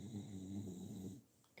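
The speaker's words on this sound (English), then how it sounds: "He's snoring now." A dog snores softly and steadily in a quiet room, a low rumbling breath that fades near the end, followed by a faint brief noise.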